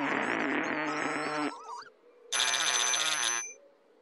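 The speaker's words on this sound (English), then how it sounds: "the trublyphone is ringing" A buzzy, toy-like electronic ringing from the Trublyphone in the cartoon In the Night Garden sounds in two bursts separated by a short warble, like a cartoon telephone going off.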